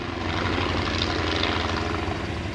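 A World War I airplane flies at Old Rhinebeck Aerodrome, its engine and propeller giving a steady, loud drone that holds throughout without pause or talk.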